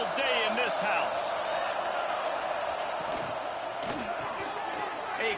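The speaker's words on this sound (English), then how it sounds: "This crowd trying to show them what it's going to be like all day in this house." A roaring stadium crowd in the NCAA 26 college football video game, a dense continuous wash of cheering at steady loudness with faint shouts rising through it.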